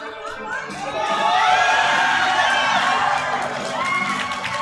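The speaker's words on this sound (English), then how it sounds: "We've got the crowd cheering for him over here." Crowd at a USAPL New Jersey state powerlifting meet cheers a lifter's 120 kg attempt, with sustained mixed shouting, whoops and high children's yells rising and holding loud throughout.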